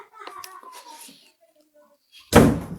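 A door is shut with a loud, abrupt thud after a stretch of children's voices and indistinct household murmur; the slam is close and stands out sharply at the end.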